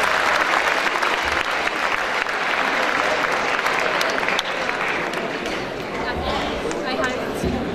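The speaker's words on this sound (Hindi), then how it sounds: "जोरदार तालियां बजाइए" Loud, dense applause from a large audience at a Hindi comic poetry gathering fills the clip steadily, with a murmur of crowd voices mixed in and a slight easing toward the end.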